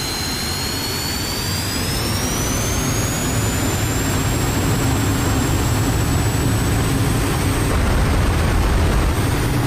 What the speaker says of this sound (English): Really good sound of the afterburner there.